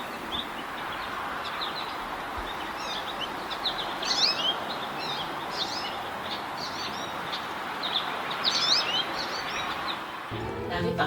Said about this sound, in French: Plusieurs oiseaux passent dans ce beau pommier.